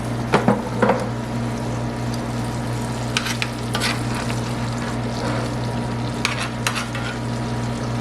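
Pork chops fry in browning butter and pork juice, a steady loud sizzle with constant crackle and a low hum, broken by occasional sharp clicks and stirring sounds.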